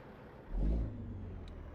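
A log truck's engine turns over with a short, low rumbling surge, then settles into a steady idle hum, faint and close, with no talking.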